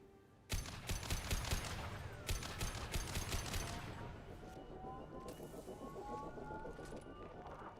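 Gunfire in the Mass Effect video game: rapid bursts of automatic weapon shots crack out in quick clusters, then thin into scattered rounds and whizzing sounds amid fainter combat noise.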